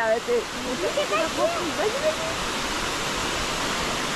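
Forest waterfall in Podocarpus National Park, a continuous rushing hiss of falling water, with a voice and other voices speaking over it at first before the water carries on alone.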